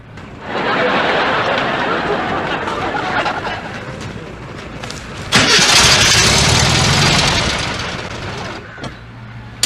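A push-started car engine catching and starting, a sustained rough mechanical roar that surges louder partway through before dropping away, with people's voices mixed in.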